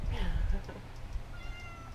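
A cat meows repeatedly, whiny harmonic cries rising and falling near the listener, with a person talking and low room rumble underneath.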